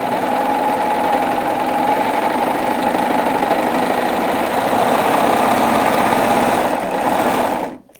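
A sewing machine runs a wave stitch on a gift pocket in a steady, continuous whirring hum, close and fairly loud, with no talk, stopping abruptly near the end.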